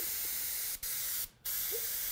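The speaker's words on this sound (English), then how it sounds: "So these dots, if you see it, I'm spraying around" Airbrush hissing as it sprays small dots of paint for fantasy art, a steady close hiss broken by two short pauses.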